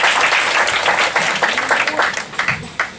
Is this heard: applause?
yes